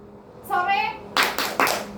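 A short chanted call from a voice, then three sharp, evenly spaced claps from a group playing an Indonesian 'tepuk' clapping game during a cross-cultural group counseling session.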